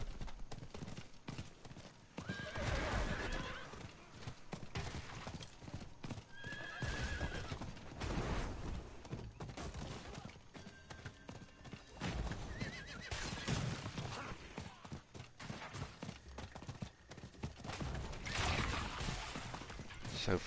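A horse in Diablo 4 gallops with steady, rapid clip-clop hoofbeats and several whinnies, set among in-game mechanical clatter and ambient effects throughout.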